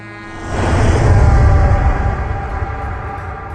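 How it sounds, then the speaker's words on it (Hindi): A bus passes behind a scene in a Bollywood film, its engine rumble and rush swelling quickly, holding loud, then easing off as it moves away, with no speech. "तो पीछे से बस गुजरती है और उस बस का आवाज सुनाई देता है।"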